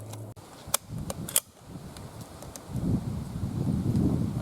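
A Mosin Nagant rifle fires outdoors, with a few sharp, brief cracks in the first second and a half, followed by wind noise and rustling.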